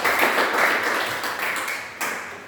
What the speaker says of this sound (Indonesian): Kita beri aplaus untuk dia.